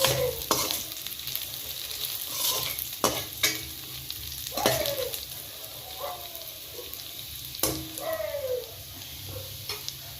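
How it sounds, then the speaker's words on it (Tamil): Ground tomato paste fries in a pan for a grandma-style fish curry, giving a steady sizzle with scraping stirs and a few sharp clatters and squeaky scrapes from the pan, and no talking. "இதுக்கப்புறம் நம்ம அரைச்சி வச்சுருக்க தக்காளி பழத்தை எடுத்து கொட்டிடலாம்"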